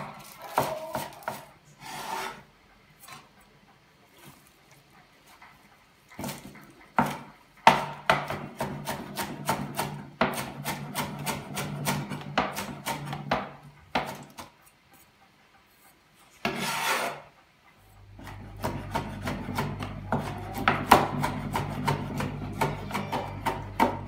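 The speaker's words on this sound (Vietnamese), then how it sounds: "Thái hành này." Knife chopping onions on a cutting board, quick bursts of crisp close-up taps with short pauses between runs and a faint low hum in the background toward the end.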